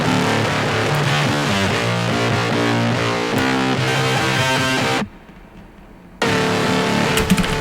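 A loud, gritty, heavily distorted tone plays continuously, drops out abruptly for about a second, then crashes back in.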